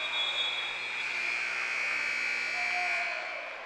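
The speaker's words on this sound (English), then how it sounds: "the shot clock buzzer came, and then a couple of seconds later the game clock went" A basketball shot clock buzzer sounds during a high school game between Hawthorne and Lawndale, a sustained loud electronic tone lasting a few seconds over the gym's background noise before fading.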